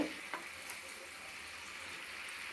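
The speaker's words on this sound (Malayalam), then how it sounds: "ചിക്കൻ കുറച്ച് പൊരിക്കാൻ വെച്ചിട്ടുണ്ട്" Spiced chicken pieces rubbed with turmeric, chili powder and salt fry in a pan with a soft, steady hiss and crackle, nearby and continuous, with a couple of faint clicks at the start and no talk.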